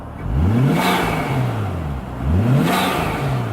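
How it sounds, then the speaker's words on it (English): A Nissan Skyline R34 engine with Apexi parts revs twice in quick succession, each rise ending in a sharp hissing whoosh from the blow-off valve, loud and close with no talking. "It's so much louder, the blow-off valve."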